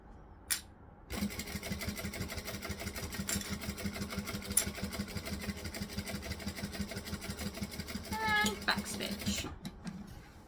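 A domestic sewing machine backstitching a fabric coffee clutch, a fast, even mechanical whir of needle strokes running for about eight seconds after a brief click, then stopping.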